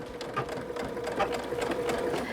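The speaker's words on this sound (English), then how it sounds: "start your seam with a little reverse stitch" A sewing machine runs a steady, even stitch along a quilt seam, beginning with a short reverse stitch. The motor hum is moderately close and uninterrupted, with no talking.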